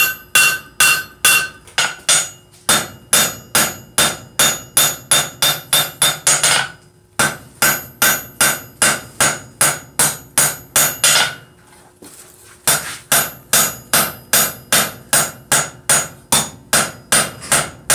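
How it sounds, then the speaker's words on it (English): A hammer strikes hot metal on an anvil while a vice is forged, ringing in fast, even, close blows in three long runs separated by brief pauses, loud and with no voices. "So now I'm just going to try to work at knocking that knob off the end there."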